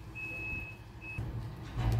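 A truck's reversing beeps sound from a neighbor's driveway demolition, two thin high tones heard faint and distant over low rumbling machinery, with no talk.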